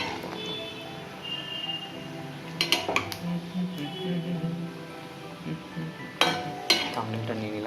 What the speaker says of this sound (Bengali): এক সাইডে ভাজা হচ্ছে, এক সাইডে ভাজা হয়ে রয়েছে।